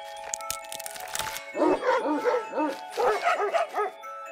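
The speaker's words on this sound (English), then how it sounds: "Come down and get the dog mad at you." Angry dog barking in the puzzle video game Bokura: two bursts of several sharp, rhythmic barks, close and loud, over a faint steady game tone and brief rustling at the start.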